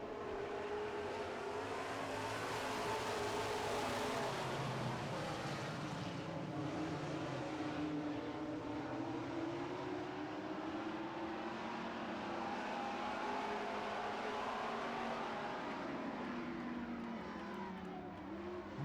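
Super stock race cars roar out of turn 4 in a feature race, a dense blend of engines revving and droning at a distance, swelling and fading as the pack sweeps by.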